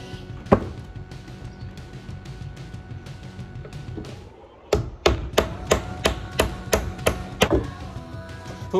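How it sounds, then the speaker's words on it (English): Hammer driving cheap roofing nails into wooden boards joined in a V shape for a homemade chicken feeder, with a few scattered blows and then a quick, steady run of about nine loud, sharp strikes close by. "And then we're gonna put some nails in it."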